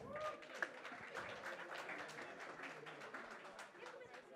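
Audience at a film trailer preview for An Action Hero claps in a faint, continuous patter of many hands, with voices talking over the applause.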